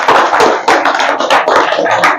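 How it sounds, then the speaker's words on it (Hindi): A burst of loud, dense clapping from an audience at a youth group gathering, irregular slaps crowding together and swelling in waves. "जोरदार तालियां।"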